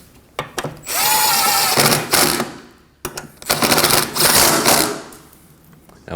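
Bolts on a 2015-2024 Ford Edge 2.0L radiator fan support are run down with a power tool, two long whirring bursts of ratcheting rotation close by, separated by short pauses.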